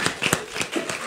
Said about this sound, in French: Merci beaucoup Nathan, on peut l'applaudir.